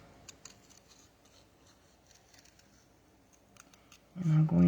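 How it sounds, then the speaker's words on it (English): Slightly dull scissors snip through paper for handmade cards with a series of soft, close, irregular cuts, and a voice breaks in near the end. "I can tell these scissors are getting a little on the dull side"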